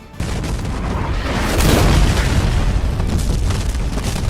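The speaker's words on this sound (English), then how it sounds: "Cornwallis ordered his men to shoot cannon fire into the battle" Booming cannon fire in a battle sound effect, a sustained roar of blasts and rumble that swells in the middle and holds steady, loud and alone with no talk.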